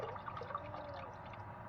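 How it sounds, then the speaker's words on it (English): Tap water runs steadily into a cooking pot for homemade ramen, a continuous, moderately loud rushing and splashing with no talk. "I'm actually going to fill this up with water"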